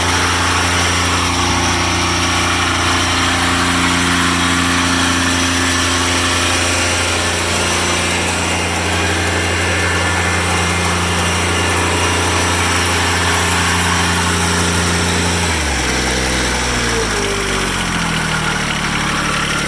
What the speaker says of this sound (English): When I got the tractor, the low idle was turned up a little too fast, so I turned it down a little bit.